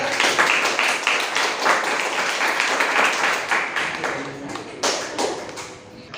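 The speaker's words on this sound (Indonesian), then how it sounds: "Tepuk tangan." Students in a classroom clapping together, a brief burst of close, fairly loud claps that fades toward the end, with a voice briefly heard.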